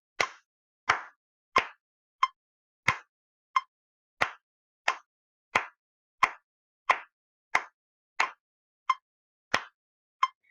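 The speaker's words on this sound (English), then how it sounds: "I'm going to demonstrate clapping." Sharp hand claps tap out a steady rhythm, sixteen crisp claps over about ten seconds, close and clear with silence between them.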